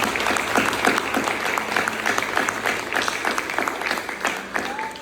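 A church congregation applauds, honoring a grandmother's life, with sustained, dense clapping filling the room and a faint murmur of voices underneath.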